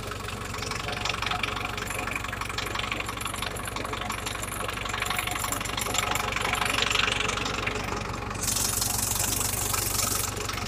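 A 45-horsepower tractor, about nine years old, idles steadily with its diesel engine chugging in a continuous low rumble and light rattle, close and even throughout, with a brief hiss near the end.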